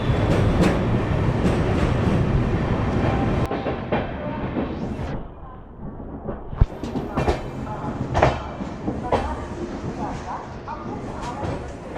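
Banaras–Sealdah Amrit Bharat Express running on rails, a loud, steady rumble and clatter of the train throughout, easing briefly midway before rising again, with faint voices mixed in.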